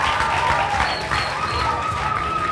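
A crowd applauds École La Bannière at a French-language malaria question-and-answer broadcast. Continuous, fairly loud clapping runs throughout, with a voice faintly audible alongside.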